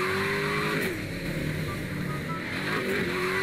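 A car in Garry's Mod drives along with a steady, droning engine hum that rises and falls slightly in pitch, heard alone and close.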